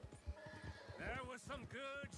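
Horse in Red Dead Redemption 2 neighing loudly in a long whinny over rapid clip-clop hooves, with someone talking quietly underneath.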